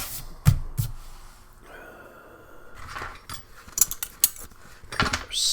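A spoon scrapes and clinks against packaging while scooping from a Spanish individual emergency ration pack, heard as a few sharp, close taps and rustles with quiet gaps between them.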